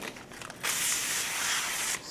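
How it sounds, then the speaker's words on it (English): A single steady hiss of aerosol cleaner sprayed into a nitrogen-filled bag lasts over a second, close and fairly soft, in an otherwise quiet room. "Spray it in."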